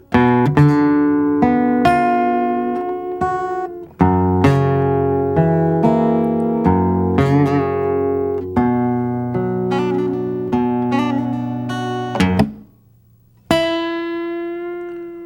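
Blues guitar plays an E7th figure up one position, bright plucked notes and strummed chords ringing clearly and alone in a loose, repeating rhythm, with a short pause near the end before a final chord.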